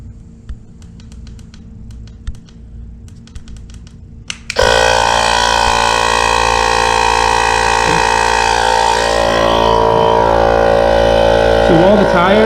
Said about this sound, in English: So while the tire is inflating,